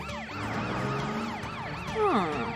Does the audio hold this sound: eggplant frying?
no